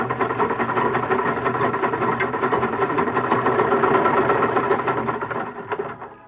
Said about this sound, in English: See me backstitch, right?